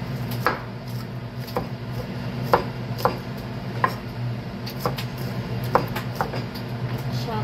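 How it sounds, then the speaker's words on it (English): Knife chopping banana peppers on a cutting board for an Italian chopped grinder sub, with about a dozen sharp, irregular thuds spaced through a steady low hum. "we're going to chop"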